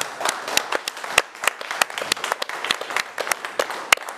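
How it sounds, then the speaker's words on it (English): A studio audience on a rugby magazine show gives a modest round of applause: scattered, distinct handclaps at close range, fairly sparse and uneven, with no talking over it. "Can we have a round of applause for that?"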